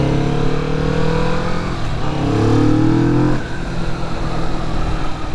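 A Kawasaki Vulcan S 650 twin motorcycle on the move, its engine droning loud and close with a steady harmonic hum that shifts pitch as revs rise and fall, mixed with rushing road and wind noise.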